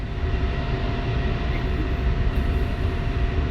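A jet aircraft in a flight simulator game rolls down the runway for takeoff, its engine giving a loud, continuous low roar with no voices.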